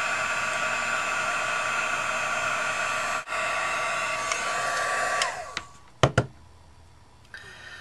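A craft heat tool blows hot air onto paper flowers in a loud, steady hissing roar for about five seconds, then cuts off, followed by a few sharp clicks and taps.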